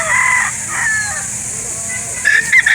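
Several roosters crow loudly and close at a chicken market in Calauan, Laguna, with clucking fowl and busy market ambience around them.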